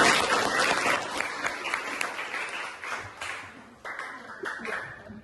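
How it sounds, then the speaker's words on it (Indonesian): Classmates give a short burst of clapping for a student called to the front of an elementary-school class, the claps fairly close and uneven, with a voice speaking over them partway through. "Tepuk tangan teman-teman"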